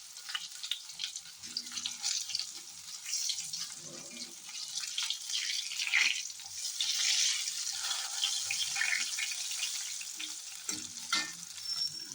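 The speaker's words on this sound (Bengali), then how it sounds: "এখানে বসে গেছে বেগুন ভাজা" Eggplant slices fry in a pan with a continuous crackling sizzle, punctuated by occasional scrapes and stirring clinks, close and moderately loud.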